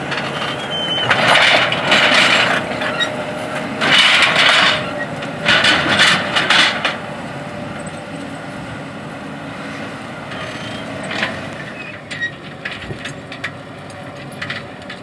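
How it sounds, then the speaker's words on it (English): Schulte Jumbo Rock Picker working a field to collect surface stones, giving bursts of clattering knocks and rattles over a low mechanical drone, busy at first and then thinning to sparse clunks. "we're going to take a look at a Schulte Jumbo Rock Picker as it cleans up the field from stones on the surface"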